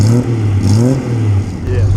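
A vintage Cooper Jaguar race car engine at the 2013 Mille Miglia runs loud and close, a rough, throbbing idle that rises and falls slightly in pitch without stopping.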